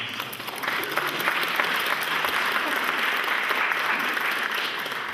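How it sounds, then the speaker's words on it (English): Audience applause at a concert at the Colburn School in Los Angeles, honoring a physician in the crowd; dense, steady clapping from a large room fills the whole stretch at even loudness. "Jerry, stand up because you deserve some applause."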